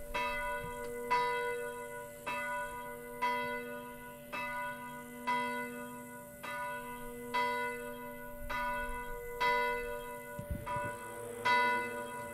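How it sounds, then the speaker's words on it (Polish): A monastery bell, worked by a monk to draw a deep tone, strikes again and again at a slow, steady pace, each stroke ringing out with a long resonant hum between hits and no voices. "Brat Dariusz zmaga się z dzwonem, by wydobyć z niego tę najszlachetniejszą jego wartość, to znaczy głęboki dźwięk."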